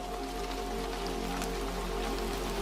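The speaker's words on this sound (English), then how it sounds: "Outside, the rain continued its steady fall, tapping at the pavement with patient insistence," Steady rain falls on pavement as a constant, even hiss of dense patter with no breaks, moderately quiet and unaccompanied by voices, under a low steady hum.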